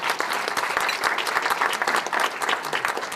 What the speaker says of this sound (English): give yourself a round of applause because you all deserve it